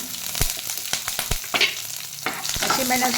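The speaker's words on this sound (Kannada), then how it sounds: "2 ಒಣಮೆಣಸು ತುಂಡು ಮಾಡಿ ಈ ಥರ ಹಾಕ್ಕೊಳ್ಳಿ. ಸ್ವಲ್ಪ ಉರಿಯಿರಿ." Dried red chilli pieces and urad dal fry in hot oil, a steady sizzle broken by sharp clatters and scrapes of stirring, close and fairly loud, with no voices.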